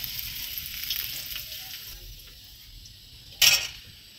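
Soft sizzling of vegetables frying in a pan while paneer masala is cooked, faint and steady, with a sharp metallic clink of a utensil against the pan near the end.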